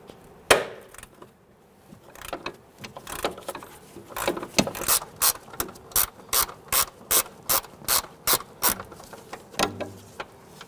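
A hand ratchet works on an upper control arm bolt of a 2008-2013 Infiniti G37, giving a close series of sharp, evenly spaced clicks in quick rhythmic strokes after a few scattered knocks.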